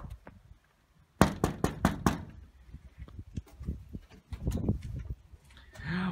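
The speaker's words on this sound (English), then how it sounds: "Let's knock on another door, see who might answer." Knuckles rap on a house door in a quick burst of sharp, close knocks, followed by scattered thuds and rustling as someone approaches to answer.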